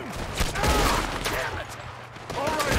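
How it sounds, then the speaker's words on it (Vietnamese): Gunfire in the video game Red Dead Redemption 2, a loud burst of rapid overlapping shots that keeps on through the clip, with a voice talking over it. "Ủa sao nó bắn đau thế"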